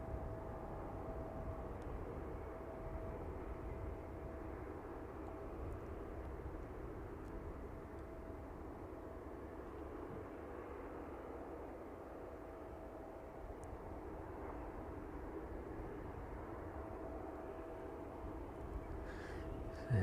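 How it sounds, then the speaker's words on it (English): A Ryanair airliner taxiing onto its stand at East Midlands Airport in the evening, heard as a steady, fairly distant engine drone with a faint whine that holds level throughout. "Stick by the Ryanair as it makes its way onto stand this evening."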